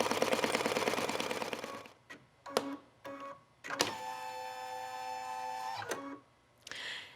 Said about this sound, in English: It's going to do an outline of the pouch, and then it'll tell where the zipper goes.